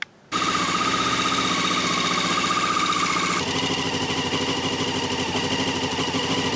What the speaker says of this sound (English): So just got to start her up, let it idle for a bit